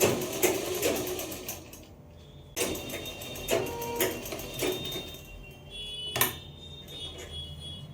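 Sewing machine stitching elastic onto a pajama waistband, running in several short bursts of rapid mechanical whirring separated by brief pauses, close and moderately loud with no talking.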